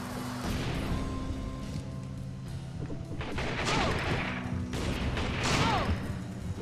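Rapid gunfire bursts from the video game Secret Ponchos crack and pop over a busy game soundtrack, with several loud volleys clustered across the clip and no speech.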